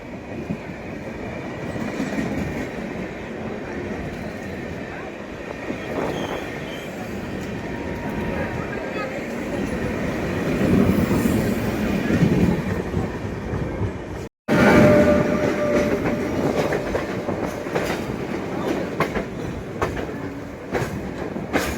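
A passenger train pulls into a station in New Delhi near Tilak Bridge, a steady rumble of wheels on rails with clacking and a faint squeal, broken by a brief dropout midway.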